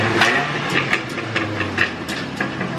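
A custom-built exhaust on a daily-driver car rumbles steadily with repeated sharp, tractor-like slapping pulses, loud and close, with no talking.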